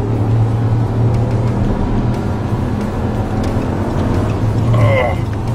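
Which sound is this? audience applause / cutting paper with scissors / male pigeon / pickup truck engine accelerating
pickup truck engine accelerating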